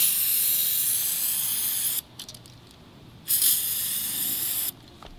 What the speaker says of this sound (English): Spray them from both sides.